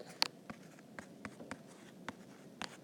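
Pen or pencil writing out a math problem on paper, a string of short scratchy strokes and taps in an irregular rhythm, close and fairly faint over a quiet room hiss, with no talking.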